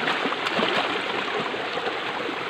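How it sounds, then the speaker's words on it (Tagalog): Water pours steadily into a large smooth-walled hole, a dense continuous gush and splash heard close up with no talk. "Busin ko ng tubig guys para makita ang laman ito."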